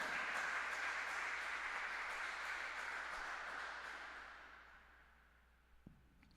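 A church congregation applauds during a sermon, a broad steady wash of clapping that gradually fades to quiet near the end, with a faint knock just after it dies away.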